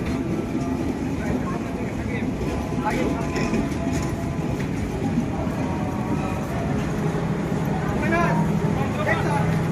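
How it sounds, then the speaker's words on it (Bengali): The Chitra Express from Sirajganj to Dhaka rolls along, heard from inside a non-AC coach as a dense, continuous rumble and rattle. Faint voices sit in the background throughout. "ট্রেন এটা হচ্ছে নন এসি বগি"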